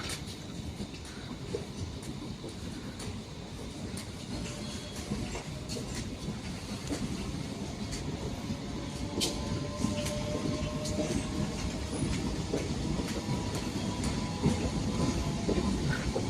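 A train departing a station rolls along with a steady rumble and rhythmic clatter of wheels on rails, growing gradually louder, with no voices.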